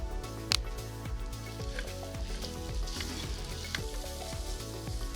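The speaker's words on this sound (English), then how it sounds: "The next thing that's going in, sausage, right in with onions." Sausage frying with onions in a hot pan gives a steady, loud sizzle throughout, with a few stirring scrapes and what sounds like background music underneath.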